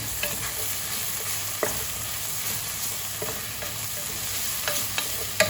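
Onion and tomato sautéing in a pan for pork spare rib sinigang, a steady close sizzle and fry broken by a few sharp stirring clicks and scrapes, with no talking.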